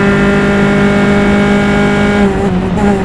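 Single-seater race cars roaring along the track at Mid-Ohio in an SCCA race, a loud sustained engine drone with a slight pitch shift near the end.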